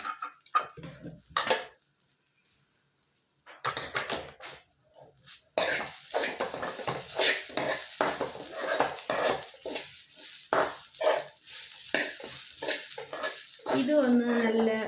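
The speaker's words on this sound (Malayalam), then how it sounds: "അങ്ങനെ 2-3 കുറച്ച് കരിവേപ്പിലയും കൂടി ഇട്ടിട്ട് നമുക്ക് വറക്കാം." Curry leaves frying in hot oil for a mutton curry gravy, a crackling sizzle with stirring clinks of a spoon against the pan, intermittent at first and then steady and close.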